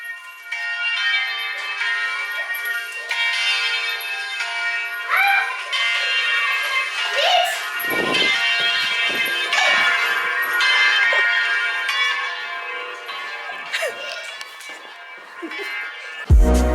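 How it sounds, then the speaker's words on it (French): Church bells ringing out on Easter day, a sustained, loud, overlapping peal of repeated strikes lasting the whole stretch, with a brief low thump at the very end. "Je crois que les cloches sont en train de sonner!"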